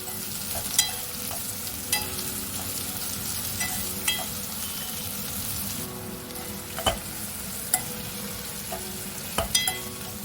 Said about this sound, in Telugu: ఆయిల్లో మంచిగా ఫ్రై చేసుకున్నాము.